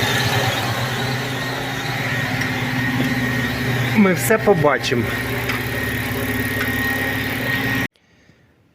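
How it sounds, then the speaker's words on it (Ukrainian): An Opel Vectra B engine idles after an oil and filter change, a steady, continuous hum with a brief squeaky rattle midway before cutting off; someone speaks over it. "Ну, нехай попрацює двигун"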